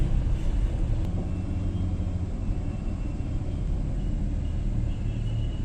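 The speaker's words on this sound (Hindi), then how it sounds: "दिल्ली का ट्रैफिक बहुत जोरदार है" Heavy Delhi road traffic rumbles on continuously, a dense low roar of engines and passing vehicles that stays steady from start to finish, with no one speaking.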